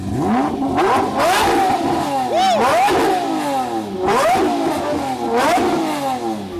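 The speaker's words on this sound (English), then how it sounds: "this car does not have the high-pitched sound like the LP640 does in my last video" A Lamborghini supercar engine revs loudly and close up, with several sharp throttle blips rising and falling in pitch over a steady idle.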